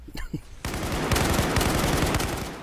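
Rapid automatic AK-47 fire erupts in Battlefield 4 and holds as a loud, sustained burst, preceded by a short moment of voice before the shooting begins.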